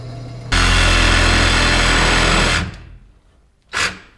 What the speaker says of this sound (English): So now I'm going to drill a hole so I can start cutting out this center piece with a jigsaw.